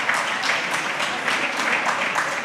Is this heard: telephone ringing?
no